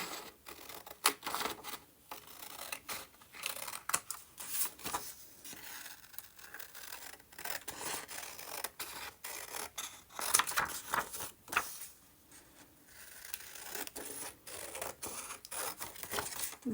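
Scissors snip through paper while antique-style printables are trimmed for crafting, a dense run of close, crisp cuts and rustles with no talk.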